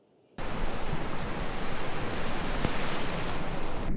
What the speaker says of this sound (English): The water is so warm, but the waves are so big over here.